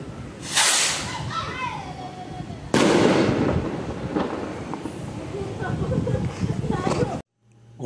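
One Piece Super Jumbo Silver fireworks go off in loud bursts with sharp cracks, two big blasts followed by crackling and rustling fallout, with voices audible around them before a brief silence at the end.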